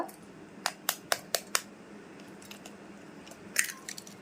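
Three eggs being cracked into a cake mixture, giving five sharp, close cracks in quick succession, then a softer crunchy crack and squishy sounds a few seconds later.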